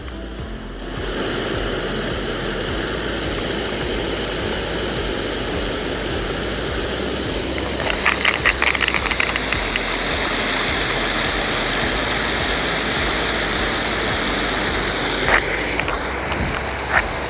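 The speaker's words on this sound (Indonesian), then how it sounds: "Dan kalian bisa lihat ya, sprinklenya itu gerak-gerak kayak gitu." Moving sprinklers spray water over the grass of the Gelora Bung Tomo stadium pitch with a loud, continuous broadband hiss, plus a few faint clicks and ticks over the steady rush.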